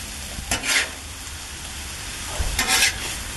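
Beef and mushrooms frying on a griddle for a chopped cheese sandwich, a constant soft sizzle broken by two brief scraping strokes of a spatula stirring the mix together.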